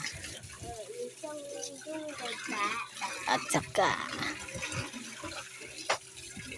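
Tap water runs into a container being refilled with clean water, a continuous splashing flow under steady talking.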